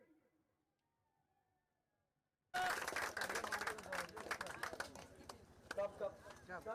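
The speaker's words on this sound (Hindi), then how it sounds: "जोरदार ताली होना चाहिए।" Loud applause from a crowd at a prize distribution for the Raza sporting club in Dhardharo bursts in after a couple of seconds of near silence, then carries on as dense, sustained clapping.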